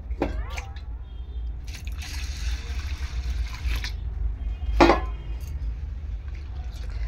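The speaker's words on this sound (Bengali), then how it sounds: "ডালটা কিন্তু আমি ভালো করে জল দিয়ে ধুয়ে নেব" Red lentils are washed with water in a bowl, with splashing swishes, drips and a louder slosh partway through against a low background rumble.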